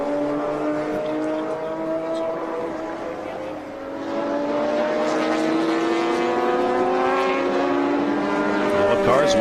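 Several race car engines, including a BMW, a 1976 Porsche 934 and a 280ZX, roar past at high revs on a track, overlapping whines sliding in pitch as the cars pass, loud and continuous.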